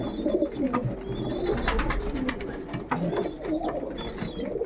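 Racing pigeons coo steadily inside a loft, a continuous layered murmur of soft throaty calls from several birds at close range, with faint chirps and rustling mixed in.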